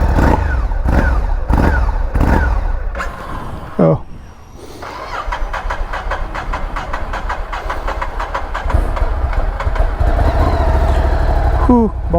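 A motorcycle engine idling at night while it warms up, a loud, close, steady rumble after a few uneven bursts at the start.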